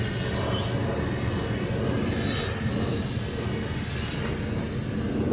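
MJX X400 quadcopter motors at full throttle, a loud, continuous high-pitched whine with a steady buzzing drone that holds level throughout, with no talking.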